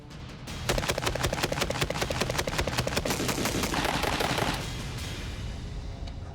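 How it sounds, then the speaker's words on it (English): An AA12 automatic shotgun fires a rapid string of about twenty shots from a drum magazine, loud, evenly spaced blasts in one burst of roughly four seconds, then a fading echo outdoors. "You can see how little recoil the AA12 has as I let off 20 rounds in 4"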